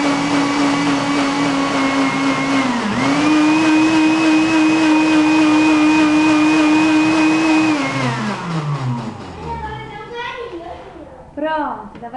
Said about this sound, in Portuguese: agora eu vou ligar o liquidificador e fazer a batida da Valentina.